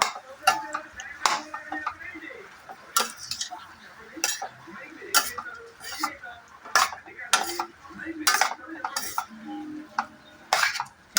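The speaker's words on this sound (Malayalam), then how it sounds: "ചേർത്ത് കൊടുത്തിട്ട് നന്നായിട്ട് ഇളക്കി വെക്കുക" A utensil scrapes and clinks against a pan while ridge gourd curry is stirred, sharp irregular metallic knocks and taps spaced across the clip, close and fairly loud with quiet gaps between.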